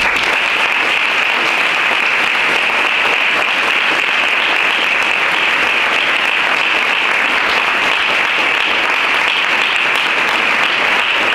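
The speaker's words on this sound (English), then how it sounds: "I'd like to ask our graduates to stand to applaud our faculty and staff" Graduates standing to applaud faculty and staff at a 2019 graduation ceremony, a loud, sustained, even roar of clapping from a large crowd filling the hall without pause.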